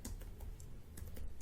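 Typing code on a computer keyboard, a quick run of soft, close key clicks with a few sharper taps, faint and without any voice.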